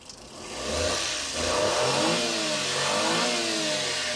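A Suzuki DA17W's R06A 12-valve VVT turbo engine revs up and holds at a high, steady roar, with rising harmonic whine as the revs climb and settle.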